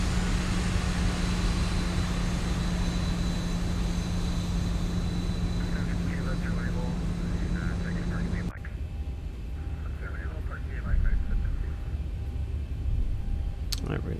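Boeing 737-800 jet engines, the ZIBO mod in X-Plane 12, hum steadily with a low drone and an engine tone. The hum drops abruptly partway through as the cabin perspective changes, and a voice talks over it.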